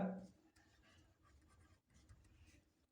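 A pen writing out a maths solution on paper, with soft continuous scratching strokes close by, partly under a man's speech.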